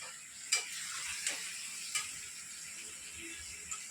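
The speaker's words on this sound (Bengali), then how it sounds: "মাংস বসাইছি, চিকেন। তো চলো দেখাই আমরা কীভাবে মাংস রান্না করি" Chicken cooking in a home kitchen pan with onion, chilli and garlic gives a steady low sizzle, broken by a few sharp utensil clicks and stirring scrapes.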